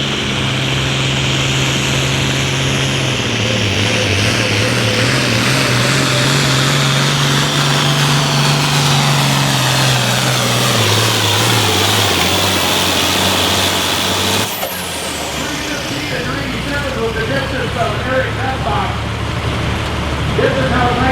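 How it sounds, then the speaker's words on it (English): An 11000-pound altered farm tractor at a pulling event in Viola, Wisconsin roars loudly as its engine revs and the turbocharger builds boost, the pitch dropping as it works down the track, with an announcer talking over the din. "As he brings up the RPMs, builds boost on the turbocharger."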